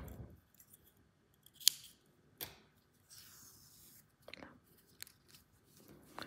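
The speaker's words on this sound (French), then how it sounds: "je coupe mon fil" Scissors snip crochet yarn in a quiet room: a few sharp, close clicks and snips, one louder than the rest, scattered across the stretch with faint handling noise between.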